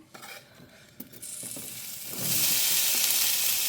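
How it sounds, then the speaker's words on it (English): Diced onion and pepper go into a hot pan for a weeknight casserole. A few clanks and scrapes come first, then a loud, close sizzle rises and holds steady. "I'm putting my diced up onion and pepper in my pan"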